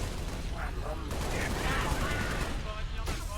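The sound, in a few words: gunfire and explosions in video game Halo Reach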